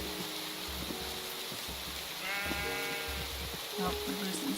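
Sheep bleat repeatedly in a Minecraft-style game world, several overlapping wavering calls close by over a soft ambient bed, with a voice speaking at moments.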